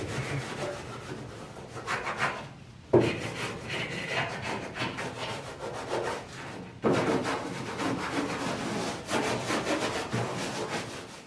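Hand sanding of a surface during prep before spraying Raptor liner, a steady scratchy rubbing in back-and-forth strokes, close and continuous, with two brief pauses and a knock where the strokes restart.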